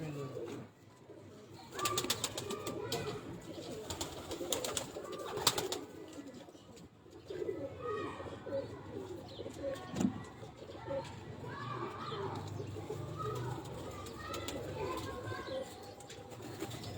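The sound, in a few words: pigeons cooing, female pigeon placed for breeding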